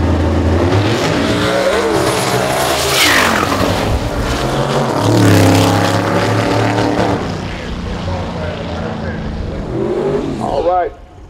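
Drag race car roaring down the track during a qualifying session, loud engine sweeping in pitch as it passes and fades, with an announcer talking over it throughout.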